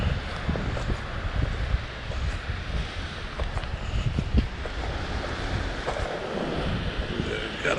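Surf washing onto a Long Island beach as the tide comes in, a continuous broad roar of waves with gusty wind buffeting the microphone throughout.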